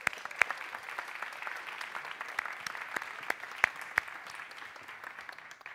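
An audience at a science communication competition semi-final applauds steadily, a dense patter of clapping that stays fairly even throughout, moderately loud with no talking.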